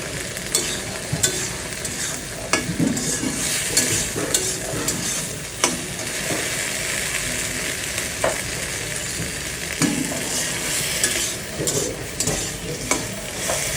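Meat with turmeric frying in a pan, stirred steadily: a constant loud sizzle with repeated scraping clicks and knocks from the utensil, close and continuous throughout.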